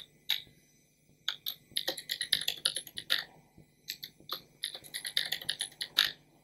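Password being typed on a computer keyboard, bursts of sharp, close key clicks in quick irregular runs separated by short pauses, clear and dry over a faint low hum.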